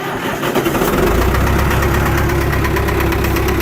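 A John Deere 450 engine runs steadily and loud throughout, a constant mid-pitched idle with a slight knocking texture while its hydraulics are tested, low on fluid.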